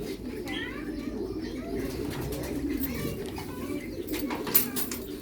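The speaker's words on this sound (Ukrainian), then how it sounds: "Тут голуби." Pigeons coo in soft, repeated low calls against a busy outdoor background at a monastery, with faint chirps and a brief voice nearby.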